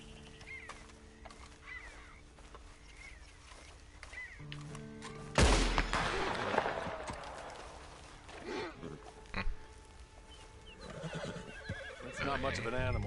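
Horses in a western-style PS4 video game whinny loudly and hooves clop, with a sharp burst of noise midway, mixed with game ambience and spoken dialogue.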